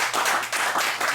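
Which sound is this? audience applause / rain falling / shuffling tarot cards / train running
audience applause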